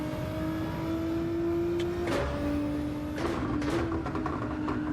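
Race car engine in Gran Turismo 7, a steady droning tone that shifts pitch through gear changes, with a brief scrape of grip loss midway; continuous and close, with no speech.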